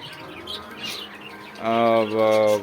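Domestic Giribaz pigeons coo and murmur close by, a soft throaty call followed by louder, sustained cooing with a few faint chirps.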